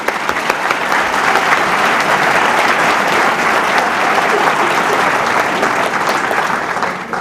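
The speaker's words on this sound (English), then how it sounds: "So let's have a round of applause for the 5 finalists." A gala audience gives loud, sustained applause for five finalists, a dense wash of clapping that holds steady throughout.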